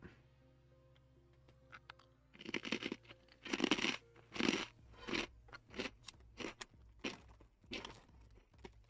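Snyder's pretzel twists crunch loudly between the teeth, a close run of crisp bites and chewing crackles that grow denser after a quiet start, with no talking.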